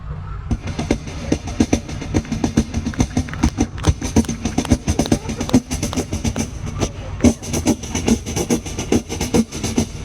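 A performer imitates DJ music with the voice alone: a dense, fast, steady beatboxed rhythm with sharp percussive hits, loud and close, lasting about ten seconds.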